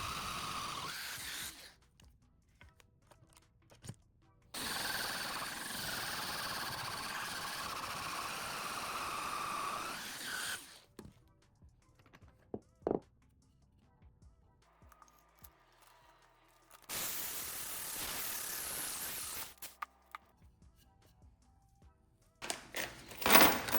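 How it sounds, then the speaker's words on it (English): A cordless drill bores pocket holes through a knockoff Kreg-style jig during a furniture restoration. It gives several separate bursts of close whirring and grinding, each lasting a few seconds, with quiet pauses and small handling knocks between them. "To drill my pocket holes, I'll be using this Craig jig knockoff that I got on Amazon, and using my drill"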